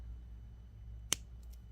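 Wire cutters snip off the excess wire ends while a carnelian cabochon is being wire wrapped: one sharp, close click, followed by a couple of faint ticks.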